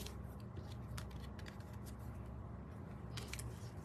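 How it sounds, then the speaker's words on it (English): Scissors snip through craft paper in short crisp cuts, a few isolated clips then a quick cluster near the end, close and quiet over a low background hum. "And then I'm going to start cutting paper."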